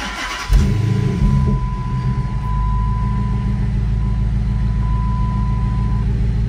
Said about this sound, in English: So what we'll do is we'll start the car up.